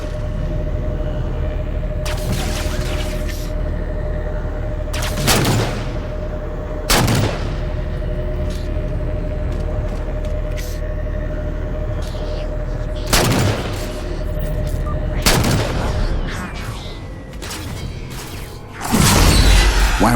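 Gunfire and artillery blasts in Halo 4 break out as scattered sharp, loud cracks and booms every few seconds, with a denser burst at the end, over a steady low battle rumble and mechanical hum.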